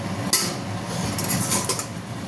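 A metal lid is lifted off a cooking pot of fish roe curry with ridge gourd and potato, giving one sharp close clank, followed by a soft, steady simmering hiss with faint light clinks.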